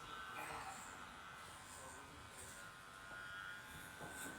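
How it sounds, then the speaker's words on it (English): Electric hair clippers make a faint, steady buzz while passing over the top of a client's head in slow, concentrated strokes, with a soft, continuous hum that rises slightly in places. "now I'm just going over the top again, doing concentrated clipper strokes"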